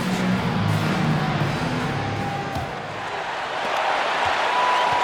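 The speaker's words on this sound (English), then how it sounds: "I don't think you could get a louder crowd than we have in Utah here tonight" A loud arena crowd roars at Utah during Game 5 of the NBA Finals, Jazz against the Bulls, in the NBA 2K23 video game. The crowd noise is dense and constant, dips slightly midway, then swells again.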